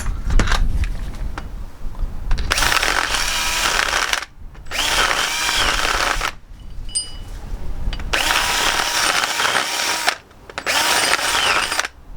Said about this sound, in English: Just going to drill these holes out a little bit more as well.